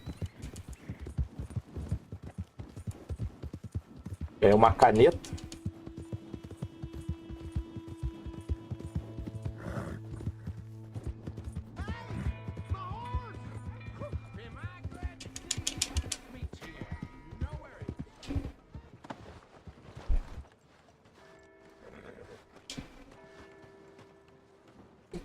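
Hooves of a horse clip-clop in rapid, uneven runs inside Red Dead Redemption 2, mixed with game effects and a brief snort, and someone speaks briefly over it.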